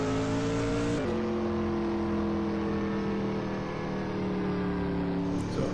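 A race car engine drones at high, steady revs as it circles the track, with a quick gear-change dip near the start, loud and continuous throughout.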